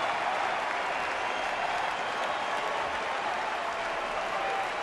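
Crowd at a Braves versus Cubs baseball game at Chicago, a sustained broad wash of applause and cheering, steady and even throughout.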